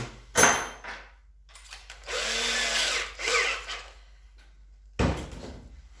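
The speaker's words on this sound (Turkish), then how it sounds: "Arkadaşlar 8'lik matkap ucuyla şöyle bir tane döleyim." A power drill with an 8 mm bit whirs in a short burst, rising and falling as it bores into drywall, framed by sharp knocks and clatter before and after.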